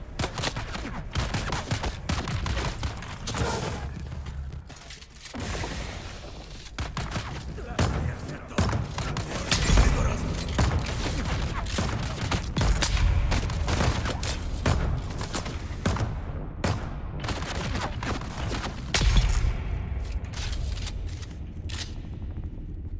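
Rifle fire in the video game Dune, with repeated sharp shots and thuds over a dense, busy battle mix of game sounds throughout, loud and close.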